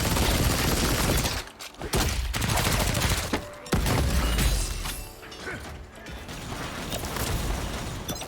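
A Gatling gun fires in Lost Ark, a continuous dense mechanical rattle of rapid shots amid layered combat noise, loud and sustained with brief dips.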